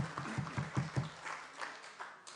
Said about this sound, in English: the applause says all